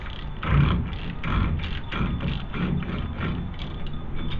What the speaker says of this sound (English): So you're going to want to put your ratchet on clockwise to get this axle nut off.